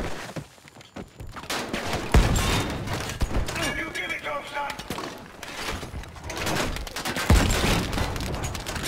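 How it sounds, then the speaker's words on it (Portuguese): Battlefield V gunfire from a slow-firing weapon, sharp separate shots spaced irregularly among explosions and battle noise, with a voice talking in between. "Acostumar com essa arminha aqui, que ela tem o fire rate muito baixo"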